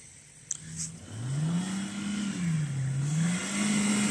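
A car engine revs hard and steadily, rising and falling, as the car tries to pull free of deep snow in extreme cold. The engine is close, loud and continuous, with no talking.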